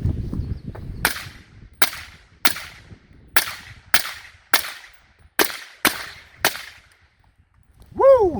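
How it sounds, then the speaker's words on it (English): Nine sharp 300 Blackout rifle shots striking steel plates, evenly spaced loud cracks each with a short ringing decay, heard from close range, followed by a brief shout at the end. "let's put some rounds into these plates"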